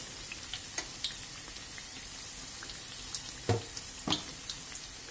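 Orange doughnut rings frying in oil in a pan, heard as a steady crackling sizzle with occasional louder pops, continuous throughout.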